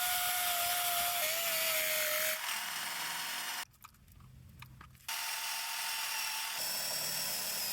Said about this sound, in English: I'm gonna grind off all this excess stuff on the top.